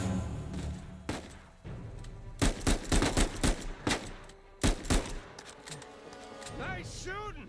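Bursts of gunfire in Uncharted 4, several separate shots and short volleys spread across the clip, with speech and game sounds in between.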